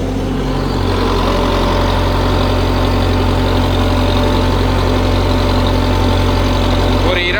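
A Sonalika Tiger 75 CRDI tractor engine running steadily at a set 1400 rpm, producing a loud, continuous diesel drone close by, with a brief higher sound near the end.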